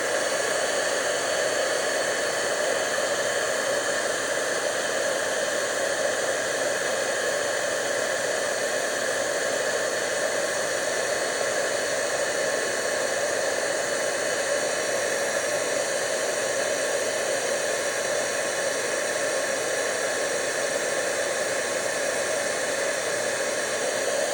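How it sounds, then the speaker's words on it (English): A hair dryer heating embossing powder blows with a steady, unbroken whooshing hiss and faint whine, constant in level throughout. "let's set our embossing powder."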